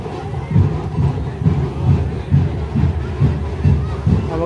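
A festive crowd fills a village Shimga celebration with loud, dense babble and rhythmic bursts of shouting or chanting that rise and fall in regular pulses close by.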